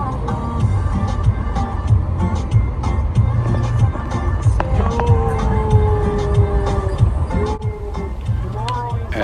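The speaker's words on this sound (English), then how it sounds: "now I'm taking a ride along the city's main street, Primera Avenue" A car rides along Primera Avenue, the main city street of Varadero, its engine and road noise steady and close throughout, with people talking over it.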